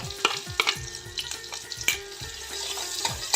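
Ginger and green chilli pieces fry in hot oil over a tempering of dried red chilli and asafoetida, a steady close sizzle broken by sharp spatula scrapes and clinks against the pan, with no talking.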